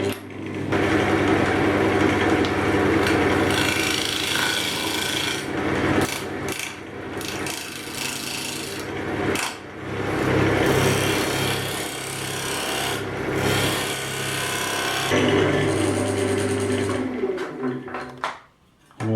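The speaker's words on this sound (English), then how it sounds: "We'll just clean it up with a bit of steel wool." Steel wool rubbing a turned sycamore crotch box spinning on a wood lathe, a loud steady rasping scrape that runs almost without pause, with brief dips in intensity as the pressure shifts, before fading out at the end.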